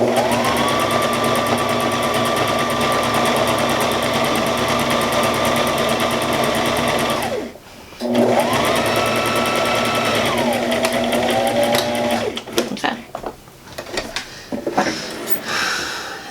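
A serger sewing machine stitches cloth for reusable pads, giving a steady whirring hum that runs for several seconds, stops briefly, then resumes before trailing off into handling noises.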